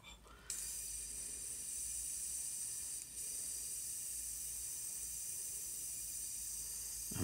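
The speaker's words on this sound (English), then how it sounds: "I'm just spraying out that color that's in there." Leftover paint colour is sprayed out in a close, steady hiss that starts after a short pause, dips briefly midway, then continues evenly to the end.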